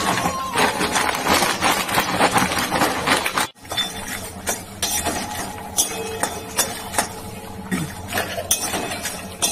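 Fox nuts (makhana) are dry-roasted in a pan, producing rapid rattling clinks and scraping taps as they are stirred and tossed, close and busy with a brief pause midway.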